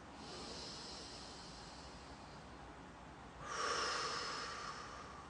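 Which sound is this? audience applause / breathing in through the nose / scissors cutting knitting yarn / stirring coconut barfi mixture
breathing in through the nose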